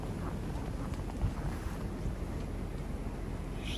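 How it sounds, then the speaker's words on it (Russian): Strong blizzard wind in Irkutsk roars steadily with constant rushing and buffeting, loud and unbroken throughout. "Звук слышно, ветер. В коробке стою, он как с крыш метет. Вой такой стоит."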